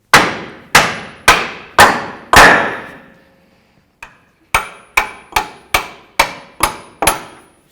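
Hammer blows on a Ford Crown Victoria front lower control arm, driving it free: five loud ringing metallic strikes, a pause with one light tap, then seven more evenly spaced hits, each ringing briefly before decaying.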